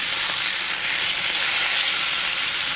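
Steak sizzles loudly and steadily in a frying pan, a constant close hiss with no talk.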